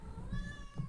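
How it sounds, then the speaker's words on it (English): A house cat gives a brief, soft meow in the background of an otherwise quiet room, lasting under a second. "that's my cat in the background"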